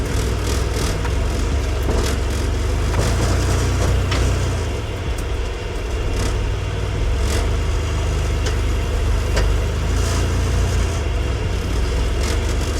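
A Ford Raptor pickup truck crawls slowly over rough off-road ground near a crack, its engine rumbling steadily at low revs. Faint crunches and knocks come from the terrain and chassis, with no talking.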